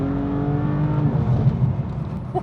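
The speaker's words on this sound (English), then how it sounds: "This thing just revs out for ages." A BMW M4 Clubsport engine revs steadily upward with a rising, sustained drone, close and loud, holding high revs without any talk over it.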